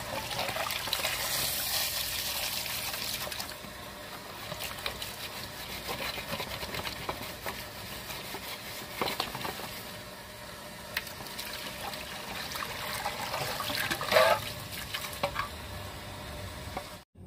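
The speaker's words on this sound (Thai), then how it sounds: "เราจะมาทำความสะอาดและล้างด้านในให้สิ่งสกปรกออกไปให้หมดก่อนนะครับ" Water runs and splashes steadily while a yellowed, cloudy plastic lamp cover is rinsed and washed inside, with rubbing and handling noises and a brief louder splash near the end, no voices.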